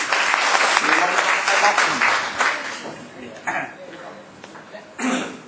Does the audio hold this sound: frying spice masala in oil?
no